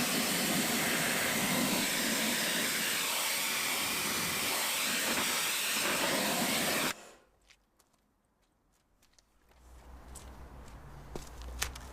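Water spray blasts dirt off a car wheel as a loud, continuous hiss that lasts several seconds and then cuts off, followed by quieter dripping and handling noises.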